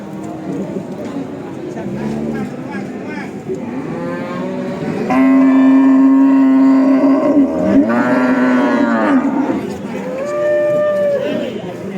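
A pregnant cow at the Jatirogo livestock market moos loudly several times, long drawn-out lows, with people talking nearby in between.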